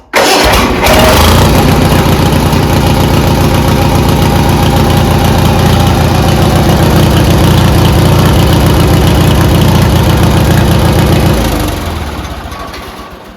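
A tractor engine with an upgraded fuel system and primer bulb cranks briefly and catches almost at once, then settles into a loud, steady, close running drone that fades slightly at the end.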